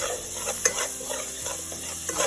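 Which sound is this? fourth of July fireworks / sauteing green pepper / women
sauteing green pepper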